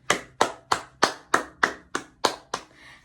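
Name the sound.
class clapping for themselves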